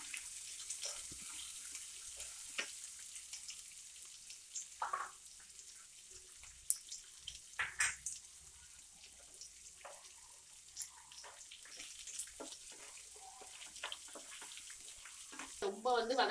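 A quiet, steady sizzle of chopped onion sautéing in a pan, with occasional clinks and scraping sounds and brief voices nearby.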